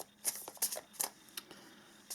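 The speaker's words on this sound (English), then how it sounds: "I'm also going to pull some other tarot cards. And while I shuffle" Tarot cards being shuffled by hand, a series of quick crisp riffling bursts in an uneven rhythm, close and quiet with nothing else in the background.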